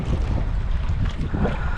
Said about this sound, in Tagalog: kasi malakas yung hangin mga idol, tapos malaki yung alon